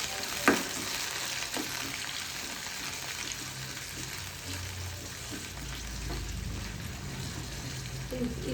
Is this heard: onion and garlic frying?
yes